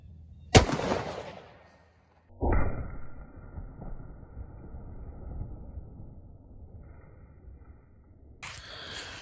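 A 300 Blackout rifle fires a 110 grain GMX all-copper bullet into ballistic gel: one sharp, loud report near the start, a second heavy thump moments later, then a fading hum and rustle.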